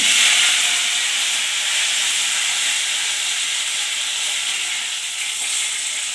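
Asafoetida and curry leaves hit hot oil for dal fry, giving a loud, steady, close sizzle and hiss that holds evenly throughout with no voices.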